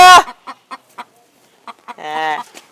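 Hens and roosters cluck on a farm in short, separate bursts, then one drawn-out squawk, close and loud against near silence.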